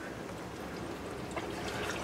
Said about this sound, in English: Water going through our filter, going into our thing over here.